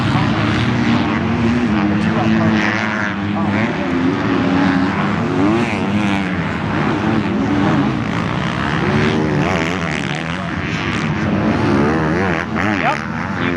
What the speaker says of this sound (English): It sounds like Deegan's bike is nuking.